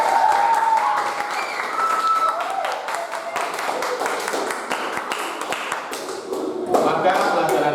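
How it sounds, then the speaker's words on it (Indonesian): A class of students clapping together at the end of an Indonesian language lesson, with rapid, uneven claps and a voice speaking over them, loud and close throughout. "Kita boleh terus tepuk tangan untuk kita."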